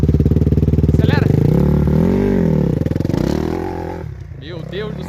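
A motocross dirt bike engine, a Honda CRF250F or Kawasaki KX250F, revs and accelerates loudly and close by, its steady roar rising and falling while a person talks over it.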